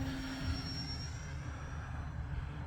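An E-flite Ultra Stick RC airplane flies on a 3S 2200 battery on a windy day, its electric motor giving a steady, continuous whine with wind rumble underneath, fairly even in loudness throughout.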